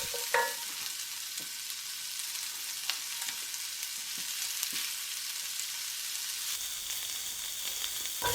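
Chicken pieces frying in a pan for a fricassee, a soft steady sizzle with occasional light crackles and stirring scrapes, close and fairly quiet with no talking.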